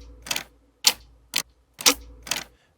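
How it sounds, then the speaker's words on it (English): Sharp, punchy ticks from a Clocks & Rhythms sample-library instrument, struck five times with a heavy low end and a crisp attack. Each hit is short and close, with clean silence between them. "that tick, it's just got sort of such a great low end, loads of presence and really sharp sound"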